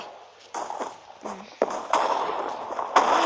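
Explosions in Minecraft, heard as several sharp cracking booms that burst out one after another over about three seconds, fairly loud and close, with no talking over them.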